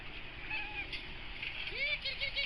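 A cat meows a few times in a video game Easter egg on a boat, short rising and falling cries over a steady hum of game ambience, with a voice delighted nearby.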